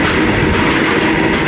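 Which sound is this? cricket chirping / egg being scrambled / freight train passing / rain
freight train passing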